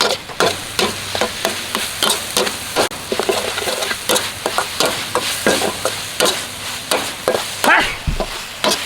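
Steady crackling sizzle of food frying in oil in a wok, with repeated scraping and clanking as it is stirred, fairly close and loud throughout.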